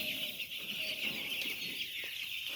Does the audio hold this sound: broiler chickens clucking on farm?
yes